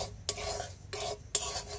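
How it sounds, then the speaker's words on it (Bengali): Semolina dry-roasts in a karai, giving three soft scraping strokes of a spoon against the pan, quiet and close, with brief pauses between them. "এই সুজিটা ভেজে নেব।"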